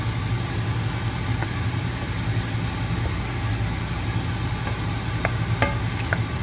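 Kheema with frozen peas being stirred in a pan, soft scraping and faint sizzling over a constant low background hum, with a few light clinks of the spoon near the end.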